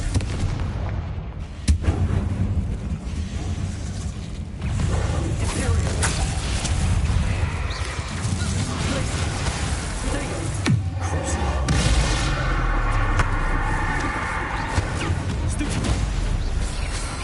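A Confringo blasting spell in Hogwarts Legacy bursts with a loud booming explosion, followed by sustained rumbling, crackling debris and echoing roar that swells again near the end.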